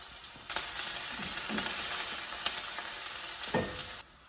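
Onion pieces hit hot oil in a pan, bursting into a loud, continuous sizzle with a few stirring clacks, then cutting off abruptly near the end.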